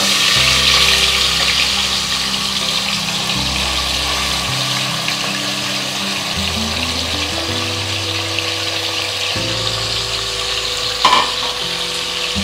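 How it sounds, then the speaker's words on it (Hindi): Marinated mutton frying on high flame in a kadai, a loud steady sizzle and bubbling with occasional stirring, background music underneath. "अब हम मटन को अच्छी तरह से फ्राई करेंगे इसमें"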